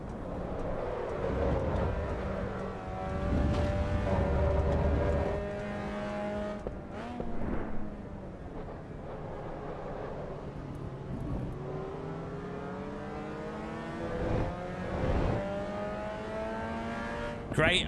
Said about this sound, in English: the engine sound is a lot better than AC